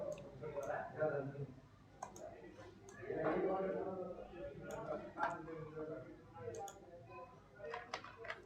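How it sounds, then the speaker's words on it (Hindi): Computer mouse clicks during a React and Node.js coding session, several short sharp taps scattered across the stretch, close and fairly quiet beneath steady talking. "एक बार हम फिर से क्लिक करते हैं"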